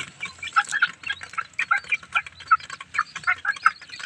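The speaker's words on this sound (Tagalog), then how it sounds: "Lalaki na ng manok ni Coco." Farm chickens in a rural province setting, with a run of short, bright clucking and chirping calls that come in quick irregular bursts throughout, fairly close and moderately loud, with no talking over them.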